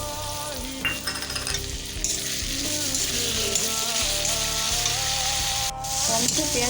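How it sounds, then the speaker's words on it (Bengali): Chopped tomatoes and onions fry in hot oil for a dhaba-style egg curry, giving a continuous close sizzle broken by a few stirring scrapes and light clinks, with a short sharp spike near the end. "টমেটো পেঁয়াজগুলো ভাজা ভাজা হয়ে গেছে"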